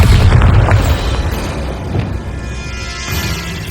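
A Bombarda blast spell going off in Hogwarts Legacy: a loud, deep booming burst at the start that rolls into a low rumbling tail, with further muffled impacts fading under game noise.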